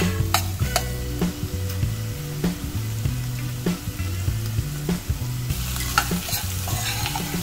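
Grated ginger, carrots and bell peppers frying in a pan for risotto, stirred with frequent sharp clicks and scrapes over a steady, loud sizzle and a low rhythmic humming beneath.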